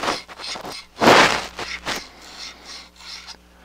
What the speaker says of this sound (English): This stuff, Scotch Brite, is not cutting it.